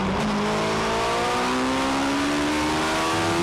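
Loud Sevens Challenge race car engines roar past together, three abreast, at Kirkistown circuit, Northern Ireland: a dense wash of rising, revving engine tones with no pause.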